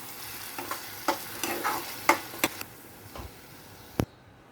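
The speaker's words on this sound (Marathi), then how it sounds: "आणि हे छान आपण नीट व्यवस्थित मिक्स करून परतून घेऊया" Baingan bharta of mashed eggplant being stirred and sautéed in a pan: close, repeated spoon scrapes and taps over a low sizzle, ending with one sharp knock.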